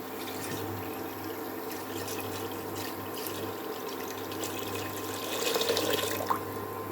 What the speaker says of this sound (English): I'll just add some water for our liquid